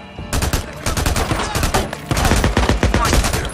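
Bursts of automatic gunfire in the video game Days Gone ring out loud and close in rapid rattling volleys, broken by a short pause before another long stretch of shots.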